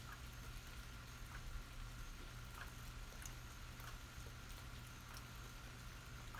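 Big raindrops fall outdoors during a walk, a dense, steady patter with scattered sharper drop hits over a low rumble, with no voices.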